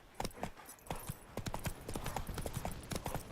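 Galloping horse hooves in The Witcher 3 video game beat out a quick, steady clip-clop rhythm at moderate volume, with no talk over it.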